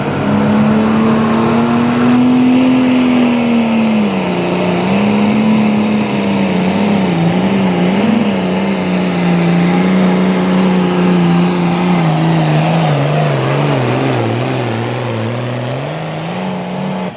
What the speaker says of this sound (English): Chrissy Martin bringing up the RPMs